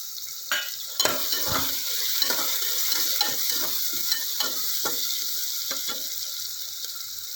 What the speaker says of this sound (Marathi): टमाटा आपल्याला छान मऊसूद होईपर्यंत परतून घ्यायचा आहे।